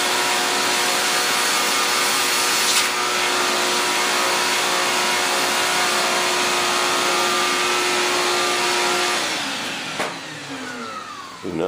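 A power sander runs continuously in a workshop during the build of a large yellow F-18 turbine jet model, a loud, steady whirring drone that winds down near the end.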